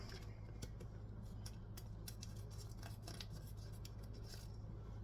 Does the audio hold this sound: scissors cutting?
yes